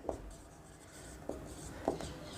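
Writing on a board during an accounting lesson, a quiet scratching of strokes broken by a few sharp taps, faint and close over a low room hum, without talking.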